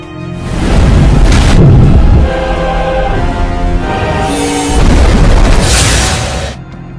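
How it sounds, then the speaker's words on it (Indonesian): Stormy sea scene with deep booming rumbles like thunder and heavy crashing wave roar, loud and sustained throughout, swelling in two big surges with a brief dip between them; no voices. "cuaca hari ini sangatlah mengerikan, badai ombak yang sangat besar sehingga terjadilah kecelakaan"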